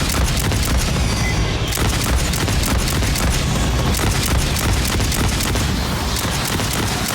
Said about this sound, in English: Everything is about blowing things up, whether it's a grenade launcher or your shoulder-mounted rockets.